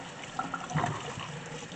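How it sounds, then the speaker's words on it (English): A breadfruit is rinsed under running water, giving a soft, close splashing trickle with a few brief louder splashes. "Just wanna wash your breadfruit at first."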